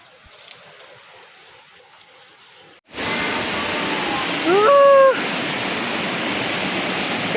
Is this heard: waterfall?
yes